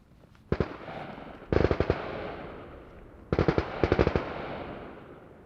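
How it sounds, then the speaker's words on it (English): MP5 submachine guns firing at a shooting range, heard from a distance as three short bursts of rapid shots, each followed by a fading echo. "I'm pretty sure they're shooting MP5s over there."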